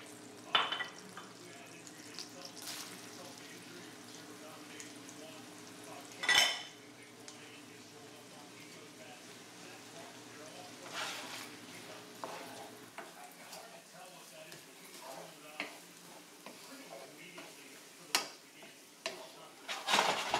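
Diced onion and celery cook in melted butter with a soft, low sizzle, joined by occasional clinks and scrapes of a utensil against the pan, one sharper knock early on, no voices.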